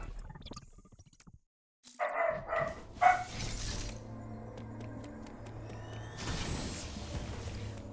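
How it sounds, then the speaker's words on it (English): A dog in a house barks frantically in a quick burst of sharp, loud yaps after a brief silence, followed by lower rumbling household noise and a few fainter clatters. "Dog is going ballistic."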